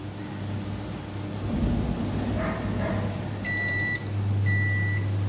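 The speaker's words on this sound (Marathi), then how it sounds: "आपला मायक्रोवेव्ह सुद्धा प्रीहीट झालेला आहे." A microwave oven sounds a few short electronic beeps on finishing its preheat, clear tones over a steady low hum in a home kitchen while a cake batter tin is being readied.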